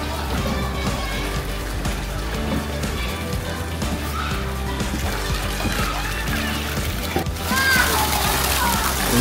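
Water running and splashing into an outdoor campsite swimming pool, a steady continuous rush throughout with a voice and other people talking in the background.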